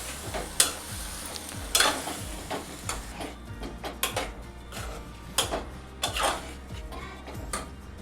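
Steady metal-on-metal scraping and clinking of a spoon stirring tempered ivy gourd palya with ground coconut in a hot pan, under a soft continuous sizzle, with irregular louder scrapes throughout.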